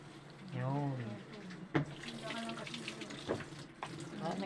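A Beat Wash washing machine undergoing deep cleaning fills with water, a soft, steady running-water hiss beneath a person talking close by, with a sharp click partway through.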